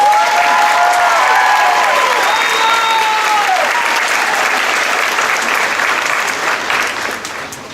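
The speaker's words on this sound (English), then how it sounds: "Please give them a round of applause" Loud, close applause for nursing graduates at a pinning ceremony, a thick steady wave of clapping that fades gradually toward the end, with faint cheers and vocal whoops rising above it early on.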